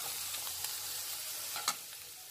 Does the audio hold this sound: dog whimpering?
no